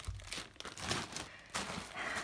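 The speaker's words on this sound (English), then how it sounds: "Sorry for all the rustling." Plastic packaging from a reborn doll kit haul crinkles and rustles close up in several quick bursts, with soft crunching between.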